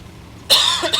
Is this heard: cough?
yes